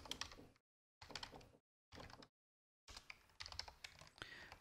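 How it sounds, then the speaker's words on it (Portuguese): Short bursts of fast typing on a computer keyboard while coding in VS Code, with clicky keystrokes broken by brief silences, close and clear and with no voices. "Vou digitar título principal."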